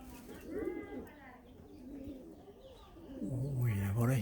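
Pigeons cooing during a pigeon-flying session, low throaty coos repeating close by, growing louder toward the end, with a voice talking over parts of it.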